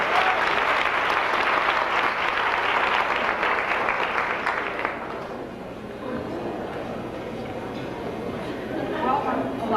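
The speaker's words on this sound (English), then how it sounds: "Let's give Miss Whitney a round of applause" An auditorium audience at a high school hall of fame induction ceremony claps for Reverend Gladys Whitney, dense sustained applause that thins out about halfway through, with chatter and talk in the background.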